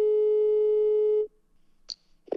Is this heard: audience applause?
no